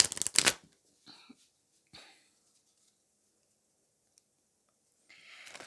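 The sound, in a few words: shuffling tarot cards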